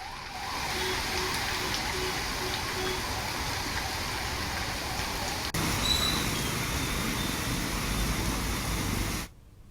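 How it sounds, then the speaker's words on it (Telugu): Heavy downpour over Hyderabad city streets: a dense, steady roar of rain hiss runs unbroken for about nine seconds, loud and even, then cuts off abruptly. "నగరంలో పలు చోట్ల కుండపోత వాన పడింది"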